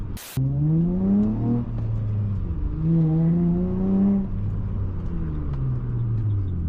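A 7th gen Honda Accord V6 six-speed coupe engine revs up through rising gear pulls, each climb in pitch followed by a shift and another steady surge, loud and close from inside the cabin with no talk.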